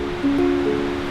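A Central Oregon waterfall in autumn sends up a steady, even rush of falling water, with a faint thin tone hovering over the roar.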